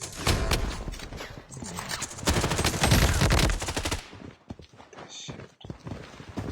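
Gunfire in the Blood Strike first-person shooter game, rapid bursts of shots crackling densely for several seconds before thinning to scattered sharper pops, with a faint voice beneath.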